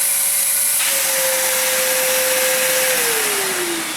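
A Numatic Henry vacuum cleaner motor runs steadily with suction, a loud continuous whine that holds its pitch and then drops slightly near the end as the load changes, with no talking.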